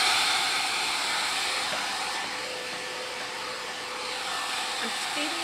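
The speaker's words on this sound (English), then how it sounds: "I'm going to hit it with a hairdryer, so I'm apologizing in advance for the noise" Hair dryer blows a steady, close, loud whooshing hiss while drying paint on a wood planter, a continuous drone that barely varies.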